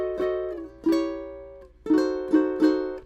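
Ukulele strummed chords in a diminished harmony, five separate strums ringing out alone with short decays, the middle of the phrase leaving a brief gap before three quicker strums.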